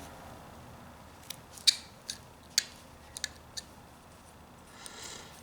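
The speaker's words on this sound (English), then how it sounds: "And I take my knife and make a cut in there." A whittling knife cuts into a small piece of wood while carving a character's face, several sharp close clicks and snaps spaced irregularly against a quiet background.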